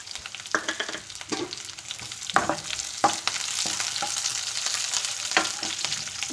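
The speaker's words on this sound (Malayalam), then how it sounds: "ഒന്ന് ഇളക്കി കൊടുക്കാം. നമുക്കതിലേക്ക് ആ പച്ചമുളക് ഇട്ട് കൊടുക്കാം." Green chillies frying in a pan for palak dal, with a soft continuous sizzle broken by several sharp scrapes and knocks of stirring, close up and with no talk.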